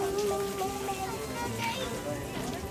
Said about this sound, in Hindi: बारिश चालू हो गई भाई